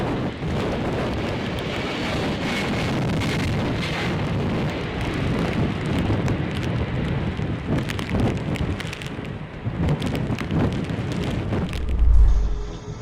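Heavy rain and gusting wind lashing an airport during Storm Noah in 2023 as an aircraft goes around on approach, a dense continuous roar with buffeting wind bursts and a deep thump near the end.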